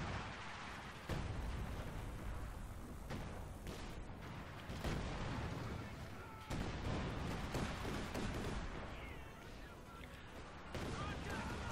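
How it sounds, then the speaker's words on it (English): Battle sounds from the World War II strategy game Company of Heroes 2, with an infantry support gun firing at a 25-pounder. Dense repeated gunshots and artillery booms pile up amid constant rumbling, and a voice talks over the din. "Still trying to keep that infantry support gun shooting at that 17-pounder"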